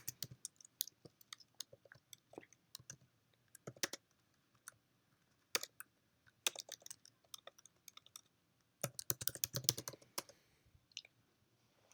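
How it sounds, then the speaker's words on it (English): Typing on a computer keyboard in bursts of quick clicking keystrokes with pauses between, close and fairly quiet, no talking. "go and type,"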